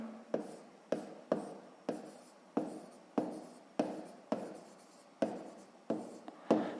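A pen writes a math answer by hand on paper, a run of about a dozen quick, soft scratching strokes at a steady rhythm, close and quiet, with no one talking.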